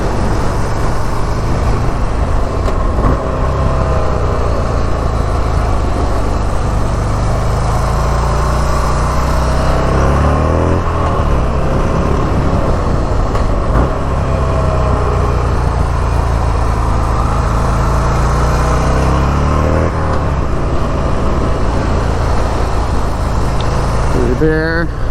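Motorcycle engine at speed on a race track during a DIY track day, a loud continuous roar with gear changes and braking through turns, rising and falling in pitch, with a rider talking over it.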